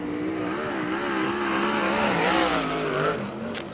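A USAC sprint car from the Western World Championship qualifying roars around the racetrack, its engine note rising and falling through shifting revs as it laps nearby, loud and continuous with no talk.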